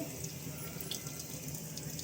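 Starch water from cooked rice pours out in a steady, close watery rush as the pot is drained for sambar rice, with a continuous splashing hiss and no voices.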